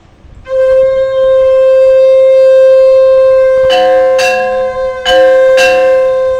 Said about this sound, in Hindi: शंख बजा दीजिए।